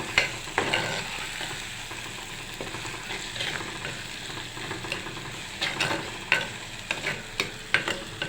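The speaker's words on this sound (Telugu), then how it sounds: "నేను కరివేపాకు ఇలా వేసేస్తున్నాను." Curry leaves crackle and sizzle in hot oil during fish cooking, a steady close frying hiss with sharp pops and spits that grow more frequent toward the end; no voices.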